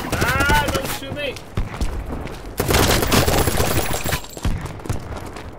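Rapid bursts of gunfire from the blocky military shooter Battlebit, loud and close with dense volleys and overlapping shots, a player's voice speaking briefly over the din.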